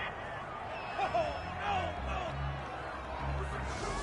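A stadium crowd in the football video game Madden 21 roars and cheers in a broad sustained swell, with a commentator's voice talking over it.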